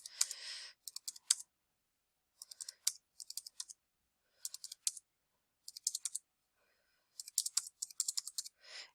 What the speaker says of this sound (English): I'm entering, typing the marks in and then pressing the enter key